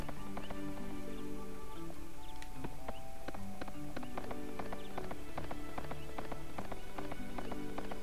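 Horse hooves in the PlayStation 2 game Suikoden III clip-clop in a steady, rapid rhythm, with game music tones sustained underneath throughout.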